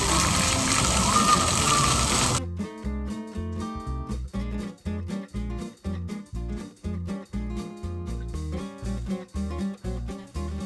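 Water splashes loudly and steadily at a kiddie pool at Disney's Art of Animation resort, where a figure spits water. The splashing lasts about two seconds, then cuts off abruptly and rhythmic music takes over.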